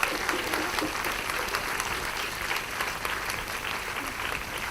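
A Thalassemia Day event audience applauds loudly and continuously, a dense wash of clapping throughout.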